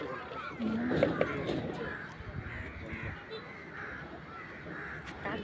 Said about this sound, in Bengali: কাকগুলো কতগুলো কাক।